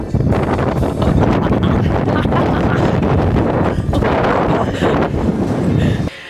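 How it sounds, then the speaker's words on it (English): Strong gusty wind at Thingvellir, Iceland, with gusts near 70 km/h, roars loudly and continuously across the microphone with buffeting surges, then drops sharply quieter just before the end. "today, winds in this area at 56k, gusting to"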